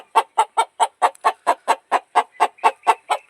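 A crossbred country chicken clucks in a steady rhythm, about fourteen short, close clucks evenly spaced with no talking.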